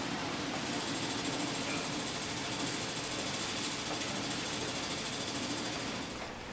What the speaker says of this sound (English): let the machine resume the satin stitch